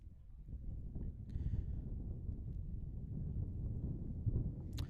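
Steady low rumble of wind buffeting the microphone at an outdoor JV soccer match, continuous and moderately loud throughout, with no voices and only a faint click near the end.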